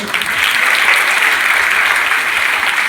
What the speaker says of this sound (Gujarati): તો આ 3 કાર્યક્રમમાં જે ઉપસ્થિત છે એમના માટે તમે જોરદાર તાળીઓ પાડો